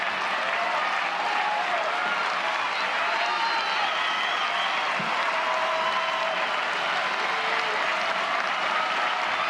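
Over 4,500 fans at a college softball stadium roar and clap steadily through a late-inning final-out moment, a broad sustained wash of crowd noise with faint individual shouts.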